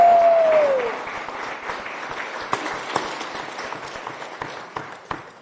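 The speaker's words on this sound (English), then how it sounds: "Round of applause for them." A round of applause from attendees at a tourism development council meeting, loud at first and then tapering into scattered claps with a few sharp individual hits near the end.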